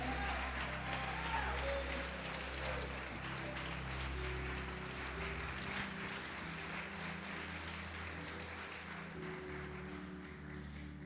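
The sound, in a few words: church congregation applauding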